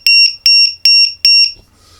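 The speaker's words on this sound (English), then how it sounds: "But why it have two buzzers?" A cheap AliExpress battery voltage monitor module's buzzer alarm sounds four loud, sharp electronic beeps in a steady rhythm, each a shrill double-toned pulse, close to the microphone before falling silent.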